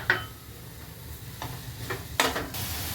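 A spoon stirs sugar into yellow pumpkin halwa cooking in ghee, giving a few soft scraping strokes over a faint sizzle, close and quiet.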